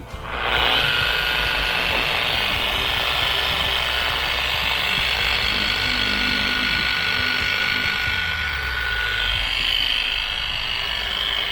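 Stainless steel wool spun against an aircraft exhaust pipe to polish it, a loud continuous high-pitched rotary whir with grinding rasp that starts abruptly and holds steady for about ten seconds.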